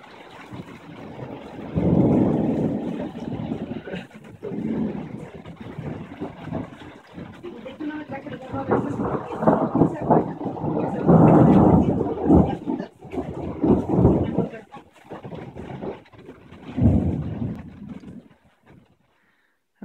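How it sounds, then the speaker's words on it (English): Stormy weather high on Iztaccihuatl volcano at around 15,000 feet, with gusty bursts of wind and rain buffeting close to the microphone and low rumbles rolling through in uneven surges that fade out at the end. "Waiting for the storm to go away."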